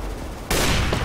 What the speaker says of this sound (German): ich hab die ganze Zeit Schüsse gehört und nicht gewusst, wo ich bin